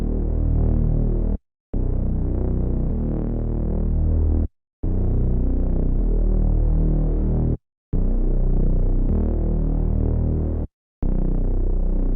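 A synth bass pattern made in FL Studio, trap style and kept simple on root notes, pulses deep and loud with a steady hum, in four long sustained phrases split by short gaps.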